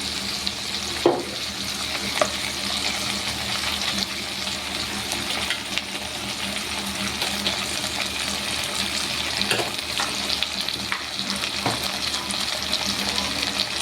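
Tomatoes and onions fry in a pan for kara kuzhambu, a steady hissing sizzle throughout, broken by occasional sharp scrapes and taps of a spoon stirring.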